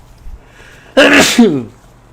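One loud, close human sneeze, a sharp sudden burst with a brief trailing vocal tail, alone in a quiet room.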